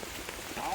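Rain falls onto a pond during the rainy season, a brief, soft, even patter and hiss with no talking.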